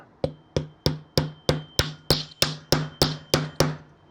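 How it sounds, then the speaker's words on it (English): Twelve sharp metallic small-hammer taps in a steady rhythm, knocking the section of a 1947 Parker Vacumatic fountain pen from a block, close and fairly loud, each ringing briefly before the next strike. "get out the small hammer and give it a wrap"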